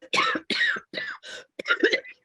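A person nearby coughs in a rapid run of about five harsh, raspy bursts with short gaps between them, loud and close, while recovering from a long-lasting cough.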